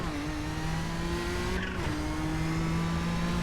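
A Nissan race car works through the turn 1 chicane at Monza, its engine droning steadily and close with a brief lift and dip in pitch mid-corner before pulling on again.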